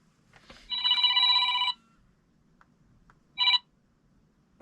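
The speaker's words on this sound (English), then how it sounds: "That's my alarm." A phone alarm rings out in a quiet room: one long electronic tone burst followed by a second short burst after a pause, clear and fairly close.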